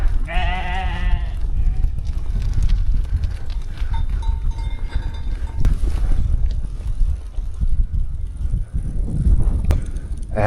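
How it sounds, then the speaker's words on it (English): A sheep bleats once near the start, wavering and fairly close, in a cold windy outdoor setting on the Tibetan Plateau with steady wind noise throughout. "Good morning, sheep."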